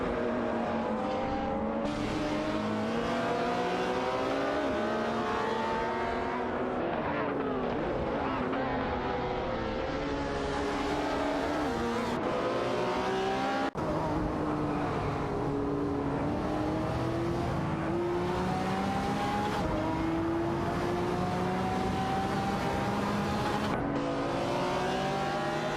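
An Aston Martin and a Lamborghini Reventon race in a video game, their engines a constant high, whining drone with revs rising and falling through gear changes, loud and unbroken throughout.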